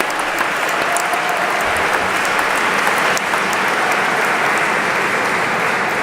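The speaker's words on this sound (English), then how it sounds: "Big applause" Dense, loud crowd applause at a college closing ceremony in Bruges, a continuous roar of many hands clapping at once, steady and close throughout.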